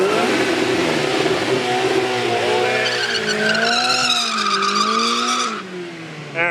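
A boosted 500-horsepower Mazda Miata launches hard in a drag race, its loud engine roar climbing steadily in pitch, dipping briefly at quick shifts, with a rising turbo whine layered on top before the sound cuts off abruptly near the end.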